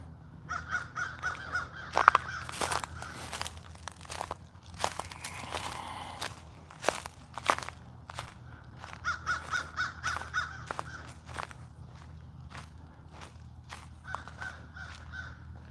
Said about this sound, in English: You can hear the crows. There's a lot of crows here in the villages.